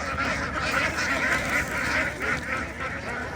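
Ducks and geese at a busy local poultry market in Hajiawa district keep up continuous overlapping quacking and honking nearby against a noisy market background.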